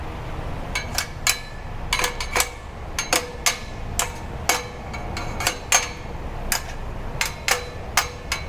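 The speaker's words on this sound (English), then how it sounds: "Use my Milwaukee hammer." A Milwaukee hammer tapping an exhaust muffler clamp while fitting an AWE exhaust on a 2021 GR Supra, a series of sharp metallic taps in an uneven rhythm, close and clear over a low background hum.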